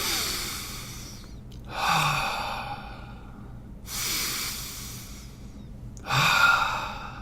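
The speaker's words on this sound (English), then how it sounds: "And now take a deep breath." A person takes slow, deep breaths during a yoga-style relaxation, drawing two long airy inhales and letting out two audible sighing exhales, close to the microphone, with short pauses between them.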